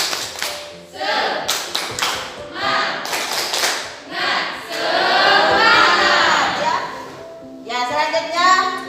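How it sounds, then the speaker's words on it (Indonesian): A school class performing a rhythmic spirit clap, bursts of patterned hand clapping mixed with children's chanting voices, loud and close, pausing and restarting over several seconds. "Coba tepuk semangat lagi. Tepuk semangat."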